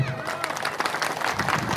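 Applause rises from a crowd gathered for a speech in Indonesia, a brief, dense burst of clapping with crowd murmur mixed in.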